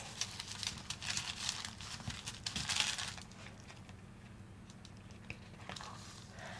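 A beeswax food wrap being folded gives soft crinkling and crumpling rustles for the first few seconds, then quieter occasional rustles, faint and close.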